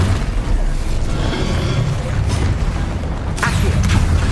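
Incendio fire spell cast in Hogwarts Legacy, a loud, dense roaring rush of flame with a sharper burst late on, steady throughout and heard alone.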